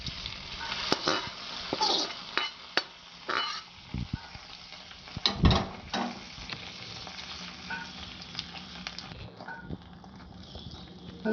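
Sliced onions with curry leaves sizzle and fry in a pan for a tomato prawn curry, loud and close, with repeated scraping stir strokes and bursts of crackling.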